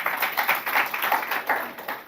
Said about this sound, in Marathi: टाळ्या वाजवायच्या का नाही?